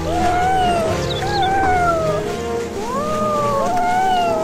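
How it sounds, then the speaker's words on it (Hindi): A kitten cries loudly and repeatedly, its high wavering meows coming one after another close by, without pause. "इस बिल्ली के बच्चे की चिल्लाने की आवाज आ रही है कहीं से"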